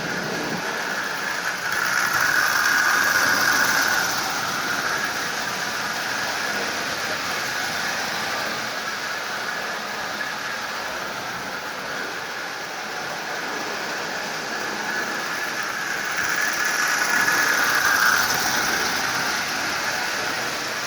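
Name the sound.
Marx 666 toy train locomotive running with smoke generator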